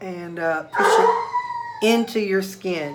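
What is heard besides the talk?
dog howling in the background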